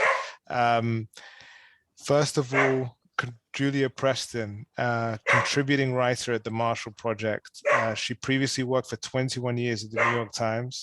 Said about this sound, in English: Please excuse my dog has found something very interesting in the background.